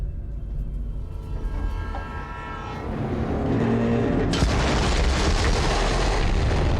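A train in Borderlands 3 rumbles along in a dense, heavy roar that swells and grows louder midway, with a deep low rumble and broad hiss and no speech.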